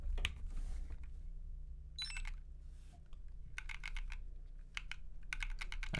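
Keys clack on a high-profile Planck V6 mechanical keyboard with Silk Black switches, struck in quick irregular clusters of crisp clicks over a low background hum, close and clear with pauses between bursts.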